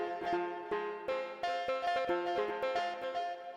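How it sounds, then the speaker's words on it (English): Bright Arturia Pigments synthesizer pluck notes play a quick, bouncy melodic pattern, each note striking sharply and fading fast, with no voices. "Yeah, so your pluck sound."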